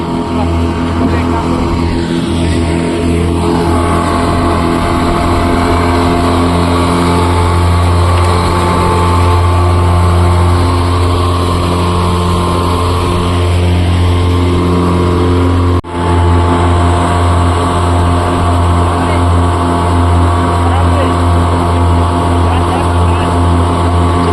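A fishing boat's motor runs steadily at sea, a loud continuous engine drone with strong low harmonics that holds for the whole stretch, with a brief dip midway.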